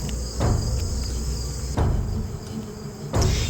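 Honey bees buzz in an open beehive while frames are being worked. A steady insect drone runs throughout, broken by three dull wooden knocks spaced about a second and a half apart, with no talking.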